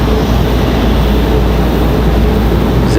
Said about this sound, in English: we watch everybody's favorite here, the 777, making its movements around to the gate here